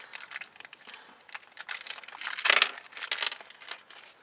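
Plastic packaging of a Barbie Basics doll accessory kit crinkles and rustles as it is pulled open by hand, a steady run of close, crackly handling noise that peaks in a louder crunch midway.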